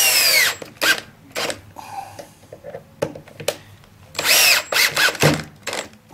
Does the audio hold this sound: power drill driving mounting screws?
yes